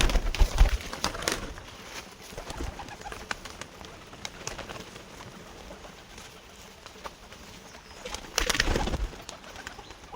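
A flock of pet pigeons coos softly and steadily close by, broken by a couple of brief rushes of noise like fluttering wings, with no talking.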